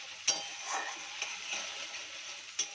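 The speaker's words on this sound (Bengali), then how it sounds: "তো মশলাগুলো দিয়ে কিছুক্ষণ নাড়িয়ে চাড়িয়ে নিয়েছি" Spice paste is stirred and fried in a pan for Bengali boal fish curry, a quiet soft sizzle with light scraping and a few faint metallic clinks of a spoon against the pan.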